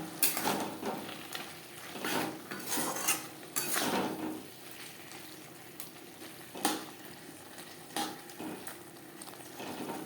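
Chicken stir-fries with carrot and capsicum in a pan for street-style chow mein, with irregular metallic clanks and scrapes of a spatula over a low sizzle, close and without talking.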